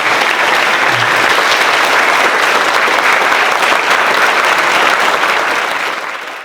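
An audience at a secondary school excellence awards ceremony applauds the school, dense steady clapping from a large crowd that carries on for several seconds before tapering off at the end.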